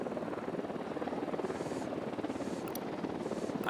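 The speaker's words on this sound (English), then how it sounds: "Unidad choppers, stay low." Helicopters approach in the Ghost Recon Wildlands video game, a steady thrumming rotor drone with rapid blade chop that holds at moderate loudness throughout.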